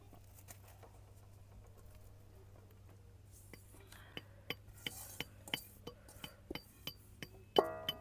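Grated carrots are stirred into boiling milk in a pot, with soft scraping and a series of light clicks and taps that grow more frequent toward the end, quiet over a low steady hum.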